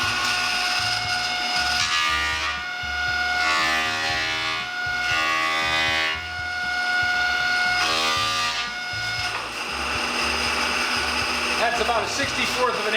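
A power planer shaves pallet boards in a workshop, its motor whining loudly and rising into harsh cutting passes that swell and ease in several bursts over the steady drone.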